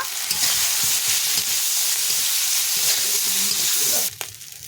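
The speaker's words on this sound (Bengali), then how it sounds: "রসুন বাটা দিয়ে এটাকেও ভালো করে আমি ভেজে নেব" Onion with garlic and ginger paste frying in a pan sizzles loudly and steadily with stirring scrapes close by, then cuts off abruptly near the end.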